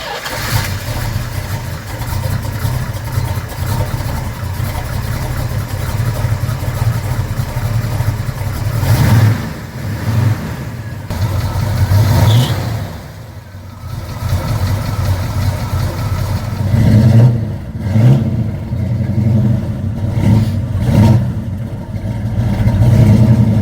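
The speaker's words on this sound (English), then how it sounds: "The guy who owns it has renovated the engine completely and then boosted the horsepower back up again." A 1972 Pontiac LeMans GTO with a rebuilt, power-boosted 455 big-block V8 rumbles steadily at idle, with a few louder revving surges toward the end, heard close up and with no talking.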